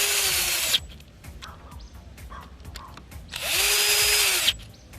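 Power drill driving screws into a Sur-Ron electric motorbike power kit, with two loud whirring bursts and rattling, handling noise between them.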